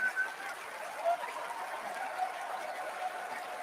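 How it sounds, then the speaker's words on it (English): An audience claps steadily during a live talk show, producing a soft, diffuse patter that continues evenly at moderate distance with no clear voices over it. "Why are you clapping?"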